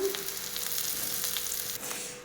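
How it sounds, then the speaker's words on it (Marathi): Green chilies roast in oil on a griddle, giving a steady, close sizzle and crackle with occasional sharper pops, heard alone. "आता मिरचीला घेऊयात छान भाजून छान अशी मिरची आपली भाजत आहे"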